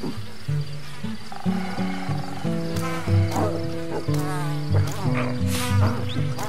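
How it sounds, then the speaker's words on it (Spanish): Bees buzz in the savanna of the video game Ancestors: The Humankind Odyssey, a steady insect drone running through the whole stretch over layered sustained game tones and a few vocal-like bursts. "¡Me pincha las abejas!"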